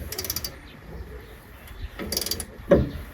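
A wrench strains and clicks against a rusted bolt as it is forced loose, giving short ratcheting, mechanical creaks and a sharper knock near the end, fairly quiet and close.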